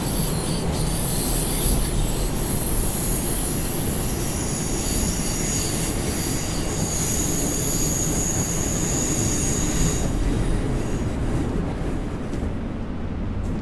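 Passenger train on the Mittenwaldbahn in Train Simulator 2018 rolling into a station under braking, with a continuous loud rumble of wheels on track and high metallic brake squeal throughout, easing slightly at the end.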